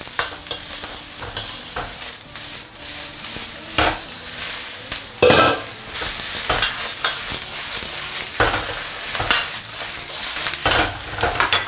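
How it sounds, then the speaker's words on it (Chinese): Scallions stir-fried in scallion oil over high heat, with loud steady sizzling broken by repeated scraping stirs of the spatula against the pan, close and continuous, with no talking. "开最大火把大葱点一下。"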